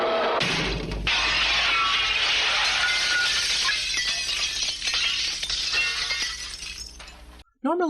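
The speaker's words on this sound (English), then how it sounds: "an old woman in black crashing through their second-story window" Cartoon witch crashing through a second-story window, a loud burst of shattering glass followed by a long stretch of tinkling, scattering shards that fades before a brief tail sound.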